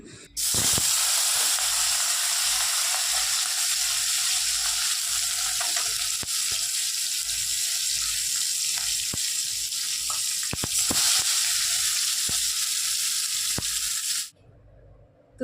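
Large fish pieces frying in a wok, a loud, steady crackling sizzle filling nearly the whole span with occasional spits and pops, then cutting off abruptly near the end.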